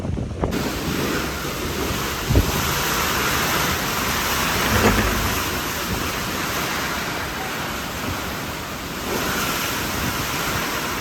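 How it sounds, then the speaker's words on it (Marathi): A strong wind and rain storm over farmland, a dense, roaring wash of wind buffeting the microphone with rain hiss, steady and loud throughout, with a couple of brief gusty thumps. "आता एवढी हवा सुटली, असलं वारं सुटले, भीती वाटायसारखं पाऊस वारं आणते"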